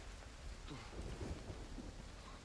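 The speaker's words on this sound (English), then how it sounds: "Yeah, the rain looks pretty nice though." Rain and thunder in the video game 007 First Light: a steady hiss of rainfall with low rumbling thunder rolling underneath, fairly quiet and continuous throughout.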